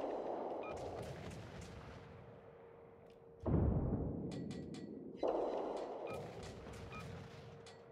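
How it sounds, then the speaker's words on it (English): Warship artillery salvos in a World of Warships ranked battle: two heavy booming blasts a couple of seconds apart, each with a rolling low rumble that decays slowly, with fainter game effects in between. "Concentrate fire on the enemy warship."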